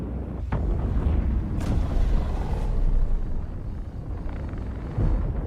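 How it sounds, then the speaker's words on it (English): A spaceship engine thrusts in the video game Star Citizen, a loud, continuous low rumbling roar that swells and holds steady for several seconds, heard on its own without talk. "Let's have a listen to the engine when we thrust."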